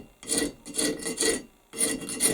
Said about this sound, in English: a pretty cheap little rasp, but you can use it for this rough stuff here and save a good file for firewood